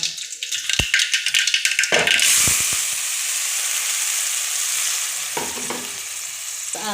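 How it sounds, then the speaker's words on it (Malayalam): Mustard seeds and curry leaves crackle and pop in hot oil, then a loud steady sizzle as chutney paste is added, with stirring clatters near the start and end. "എണ്ണ ചൂടായി വന്നിട്ടുണ്ട് കേട്ടോ നമുക്ക് കടുക് ഇട്ട് കറിവേപ്പിലും കൂടി ചേർക്കാം"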